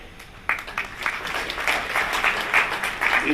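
Audience applause at a university address, a steady wash of clapping that swells sharply after a quiet start and keeps going with uneven surges.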